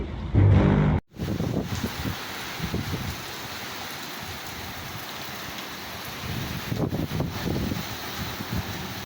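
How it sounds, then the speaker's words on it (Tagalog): Strong typhoon wind roars and buffets the microphone in a steady rushing blast, with a sharp thump near the start. "Sobrang lakas ng hangin"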